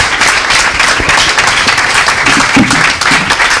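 Sustained audience applause fills a conference room as attendees cheer the permanent organizers of a young researchers' meeting, a dense, steady patter of many hands clapping at close range for several seconds.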